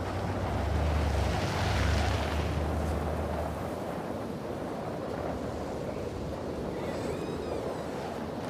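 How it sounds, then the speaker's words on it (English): Wind picking up ahead of a tornado, a loud broad roaring rush that swells in the first few seconds, then settles into a steady, gusty blow with a low rumble under it. "The wind is picking up."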